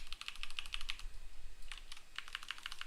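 Computer keyboard typing in short bursts of crisp clicking keystrokes, close and fairly quiet, with a pause in the middle before another quick run of taps.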